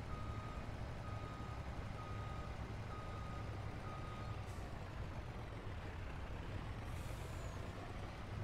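A heavy truck in a forestry trucking video game reverses between a sawmill and a barrel factory, sounding a steady repeating backup beep over a constant low engine drone, with short air brake hisses near the end and no talk.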